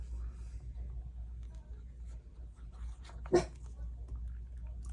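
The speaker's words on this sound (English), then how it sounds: "the puppy's dreaming" A dreaming puppy gives a single brief whimper partway through, faint and close against a steady low background hum.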